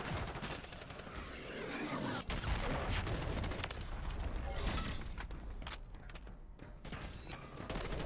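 M4 rifle gunfire in Call of Duty: Modern Warfare 3 rattles in dense, loud automatic bursts with heavy thumps and mechanical clatter, continuous through the stretch.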